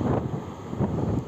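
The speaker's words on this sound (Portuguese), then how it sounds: "A gente tá com um vento aqui de 37 km por hora." Strong sea wind of about 37 km/h buffets a small Fimi X8 Mini drone flying out over the ocean, producing a steady loud rumble with gusty swells and no talk.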